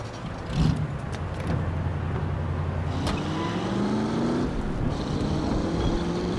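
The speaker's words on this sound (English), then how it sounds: "That's my car there." A car engine drives steadily in the video game The Saboteur, a continuous motor drone with wind-like rush and a rising gear whine, close and sustained, no speech.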